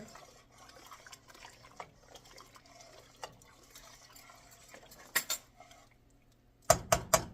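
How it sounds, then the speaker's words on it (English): A spoon clinks and scrapes inside a full pot of vegetable soup, soft liquid swishing between a few sharp metallic knocks near the end, close and fairly quiet with no talk. "Give this a nice stir."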